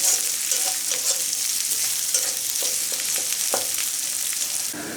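Chopped onions frying in hot oil in a pan for a stingray fish curry, a constant dense sizzle close by with scattered small taps and scrapes of stirring.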